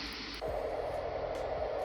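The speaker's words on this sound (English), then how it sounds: "This is just a higher pitch, like white noise." Baby sound machine switches after a quick click to a steady, higher-pitched white-noise hiss. It plays quietly and evenly, with no talking.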